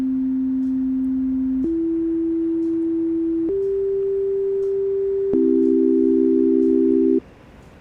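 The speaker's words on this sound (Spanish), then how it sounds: "Estas frecuencias suenan de forma muy limpia y muy robótica" A series of clean, steady electronic pure tones stepping upward in pitch, each held about two seconds, ending with two tones sounding together before cutting off.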